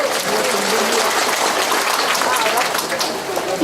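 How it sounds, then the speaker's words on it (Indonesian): A crowd at a humorous Halal Bi Halal religious talk claps steadily for the village head, with loud, continuous applause filling the room throughout. "Tepuk tangan dulu dong buat lurahnya."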